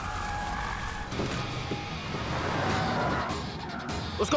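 A car turning hard with tires skidding and squealing, a sustained engine drone with a rising screech in the middle, fairly close, ending in a sharp knock.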